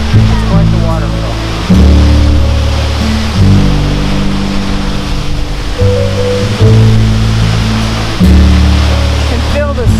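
A waterfall gives a steady broadband rushing roar, under a loud, low, droning hum that shifts pitch in steps.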